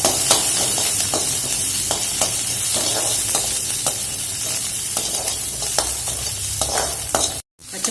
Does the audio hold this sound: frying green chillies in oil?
yes